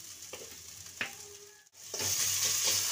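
Turmeric and chili powder dropped into hot oil in a pan, a few soft knocks and stirring sounds, then a steady, close sizzle that swells and holds.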